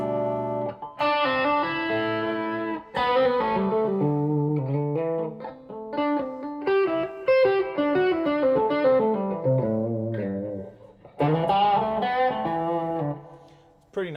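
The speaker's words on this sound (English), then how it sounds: "I've loaded in a different IR, which is a Brocasti M7 Echo Chamber IR" Guitar run through a Hotone Verbera reverb pedal loaded with a Brocasti M7 Echo Chamber impulse response, playing sustained chords and melodic lines with a smooth, lingering tail, steady and fairly loud, with no talking.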